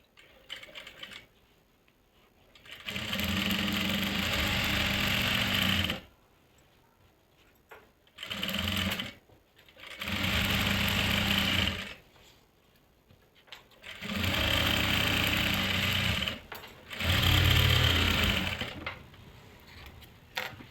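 An electric sewing machine stitching a salwar seam runs in four or five bursts of rapid, steady whirring and needle clatter, each a few seconds long, with quiet pauses between them.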